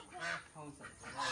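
Geese honk in a few short, nasal calls close by, with a voice briefly audible in the background.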